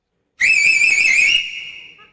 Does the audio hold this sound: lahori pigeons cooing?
no